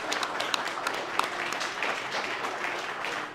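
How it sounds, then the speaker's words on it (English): Audience at a youth sports awards ceremony applauding, a sustained bed of many hands clapping with a few sharp nearer claps standing out, steady and moderately loud. "Clap it up, clap it up, clap it"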